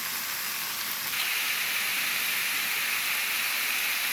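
Ground beef sautéing in a pan, a dense continuous hiss and sizzle that swells slightly partway through, with no talking.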